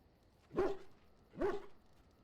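Two short barks from a puppy, spaced about a second apart, fairly faint and alone with no talk.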